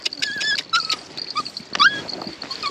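A puppy on a lead whines and yelps in high, squeaky cries during a training class, a rapid string of close whimpers and shrill screams with faint background noise.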